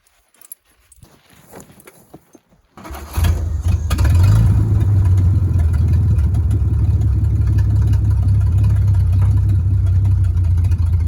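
A 1952 Dodge M37 truck engine starts after a few seconds of quiet handling noises, then runs at a steady, loud, close rumbling idle that continues to the end.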